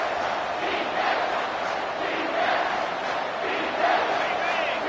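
Football stadium crowd roaring steadily at a big third-and-long moment, a dense sustained wash of voices with swells about every second and a half, loud and continuous throughout.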